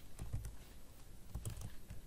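Code typed on a computer keyboard in quick bursts of soft, close key clicks with short pauses between, quiet and without talk.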